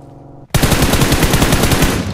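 Automatic gunfire in the mobile shooter game BGMI, a loud rapid burst that starts abruptly after a quiet moment and rattles on steadily until the end, close and with no speech over it.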